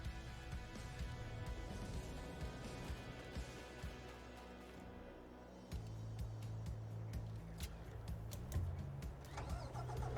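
A logging truck engine in a farming game, a steady mid-pitched idle that revs up and pulls away with clunks and rattles, fairly faint with no talking.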